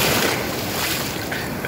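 Large ocean waves roll and wash at a beach in Brunei, a steady loud broadband rush of surf with wind noise buffeting the microphone, no voices.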